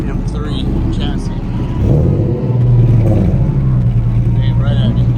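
A drift car with a 6-liter Vortec V8 in an E90 M3 chassis revs at a drift day, its engine note rising and holding a loud, rumbling drone under nearby chatter.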